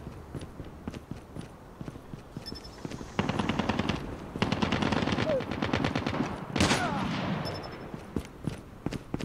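Rapid automatic gunfire from Call of Duty Mobile in Gun Game mode, opening with sparse clicks and footsteps and then breaking into loud sustained bursts of rattling shots with short pauses between them.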